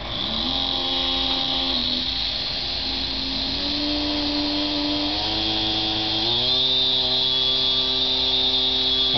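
A gas-powered Club Car golf cart engine runs at full throttle close by, a loud steady buzzing whine that climbs in pitch partway through.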